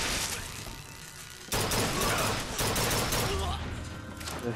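Gunfire in the video game Bioshock Infinite, dense and loud, with overlapping rapid shots and crashes. A brief lull comes before a heavier burst of shooting that continues to the end.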